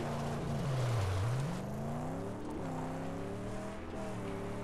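Engine of a car driven in the Mad Max video game, a loud continuous drone that dips in pitch as the driver slows, then climbs steadily as it accelerates again, with no talking over it.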